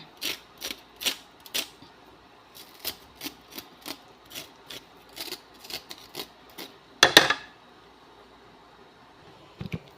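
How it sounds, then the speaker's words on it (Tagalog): During cooking, the remaining flesh is scraped out with quick, rasping scrapes in an irregular rhythm, close and moderately loud, with a brief louder scraping burst near the end. "Kikis-kisin natin para matanggal yung kanyang mga natitirang laman."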